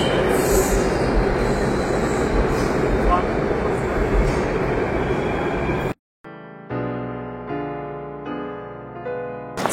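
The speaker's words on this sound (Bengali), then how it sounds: "আমরা ডিরেক্ট কালকাজি মন্দির মেট্রো স্টেশন থেকেই সেন্ট্রাল সেক্রেটারিয়েট যাওয়ার মেট্রো পেয়ে যাব।" A Delhi Metro purple line train rumbles loudly from inside the carriage for about six seconds of dense, continuous rolling noise, then cuts abruptly to a quieter steady tonal sound inside the train.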